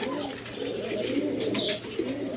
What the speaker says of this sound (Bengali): এখানে একটা নর কবুতর আছে বিউটি জার্মান বিউটি দেখেন ব্লু বার কালার